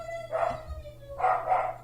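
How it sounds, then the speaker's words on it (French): Several dogs bark in two loud bursts, a short volley followed by a longer, denser round of barking, close by indoors with a steady low hum underneath. "vous avez entendu mes chiens beaucoup crier"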